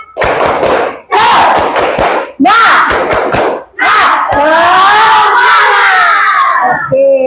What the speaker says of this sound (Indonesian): Tepuk semangat dulu supaya lebih semangat.